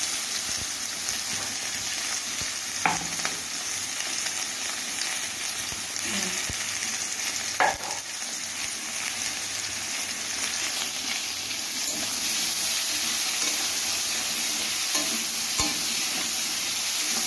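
Potatoes fry in a pan with a steady, even sizzle, broken by occasional scrapes and knocks of stirring, close and moderately loud, with no voices.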